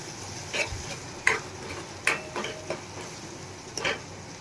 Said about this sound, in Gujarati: એકદમ સરસ મિક્સ કરી લઈએ